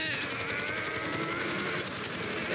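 Rapid automatic gunfire in Godzilla Minus One rattles in a fast, even rhythm throughout, dense and continuous, with no speech.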